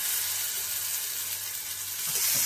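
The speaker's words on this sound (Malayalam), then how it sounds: "ബ്രിഞ്ചാൾ ഫ്രൈ ചെയ്യാം കേട്ടോ." Masala-coated brinjal fries in a pan, giving a steady, even sizzle and hiss throughout with no voices.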